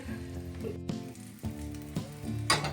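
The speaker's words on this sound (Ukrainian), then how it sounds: "І так продовжуємо смажити" Cabbage potato pancakes (deruny) sizzle and crackle in a hot pan nearby, with occasional clinks and scrapes of a utensil over the steady frying hiss.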